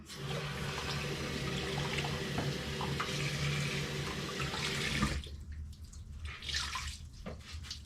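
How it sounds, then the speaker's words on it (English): Hot water runs steadily from a bathroom tap onto a washcloth, a loud continuous splashing that stops abruptly partway through, leaving quieter dripping and faint handling sounds. "I'm gonna put some hot water on this washcloth and wipe off my armpits"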